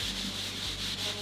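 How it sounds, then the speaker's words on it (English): Wood on an International 2.4mR sailboat being sanded by hand, a steady close scratchy rubbing with rhythmic back-and-forth strokes and no talk. "I typically do a lot of my sanding by hand rather than with a"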